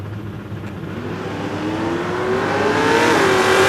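Two 302 Ford drag cars, a 1964 Ranchero and a Mustang, racing at an ANRA Sportsman eliminations event, their engines droning steadily and swelling louder as they pull down the strip, with no talk over them.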